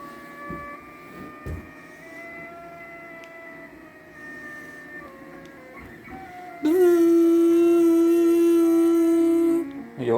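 A Millright CNC router cuts into mounted wood: a tonal machine whine with shifting pitches and light knocks, then a louder sustained spindle-cutting drone for about three seconds before it drops off.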